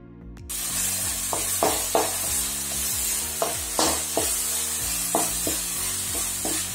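Tomato and red chilli frying in hot oil with onion for bhindi (okra) fry, giving a strong continuous sizzle broken by repeated scraping stirs of a spatula in the pan, close and loud with no talking.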